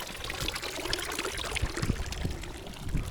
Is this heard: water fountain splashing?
yes